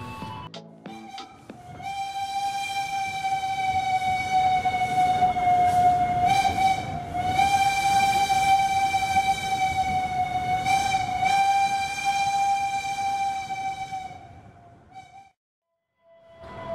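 A long, loud train horn blares steadily for about twelve seconds over a low rumble at Cirebon station, then fades away.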